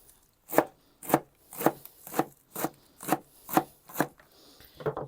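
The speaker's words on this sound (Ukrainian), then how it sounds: "Зелена цибуля, кріп і петруха. Також тут можна помільче." A knife chops green onion, dill and parsley on a board in eight even, crisp strokes about half a second apart, close and clear with no talk.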